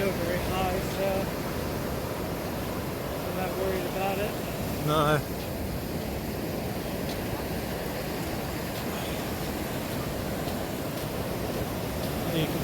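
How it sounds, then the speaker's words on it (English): Atlantic Ocean waves at Vilano Beach, Florida, a steady broad wash of surf and wind filling the whole stretch, with someone speaking briefly early on. "I got a good feel for Atlantic waves."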